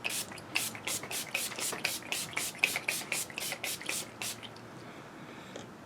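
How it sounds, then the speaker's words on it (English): All-nighter makeup setting spray hisses from a pump bottle in about a dozen quick, evenly spaced close bursts that come in rapid succession and then stop, leaving quiet. "I'm just going to go in with a ton of the all-nighter setting spray."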